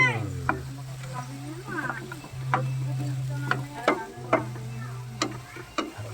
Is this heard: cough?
no